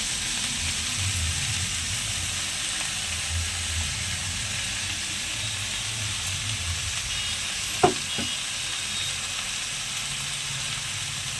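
Mustard-chili paste with salt and turmeric sizzles steadily in a pan of winter vegetables and cauliflower stalks, a constant close frying hiss, with a brief clatter of a spoon or utensil near the end.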